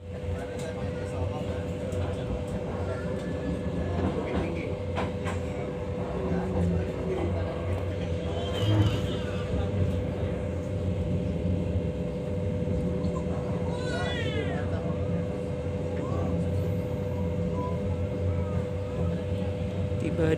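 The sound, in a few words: passenger train Pasar Senen to Semarang running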